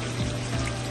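Water poured into a cooking pot for boiling curry fish, a brief steady splashing pour lasting about a second, close and moderately quiet with no voices.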